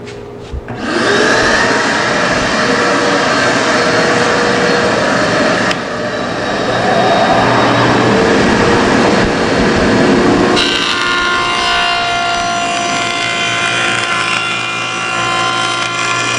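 A table saw fitted with a dado blade cuts a groove through a wooden board, a loud continuous grinding whine that shifts in pitch partway as the wood feeds through, running for over fifteen seconds.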